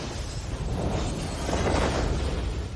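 A rumbling explosion effect from an animated martial arts fight, a sustained roaring blast that swells toward the middle and stays loud throughout.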